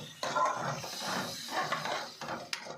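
A spoon scrapes and clinks against a cooking pan on a low gas flame while curd and spices for aloo kurma are stirred together, giving irregular close metallic taps with no talking.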